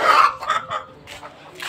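A hen clucks in a few short, close bursts, loud at first and then trailing off, followed by another brief cluck at the end.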